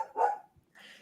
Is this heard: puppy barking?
yes